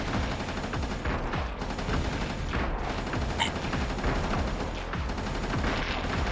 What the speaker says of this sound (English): Fire off that laser.